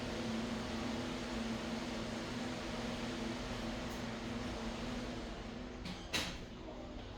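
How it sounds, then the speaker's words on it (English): An electric fan in a bedroom runs as a loud, steady broadband whir with a low hum, continuous throughout, ending with a brief clatter. "that was a fan that my son got in his room"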